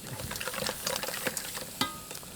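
Crab and vegetables fry in a pot for crab bisque, a gentle sizzle with scattered crackles and pops, one sharper pop standing out near the end, close and alone.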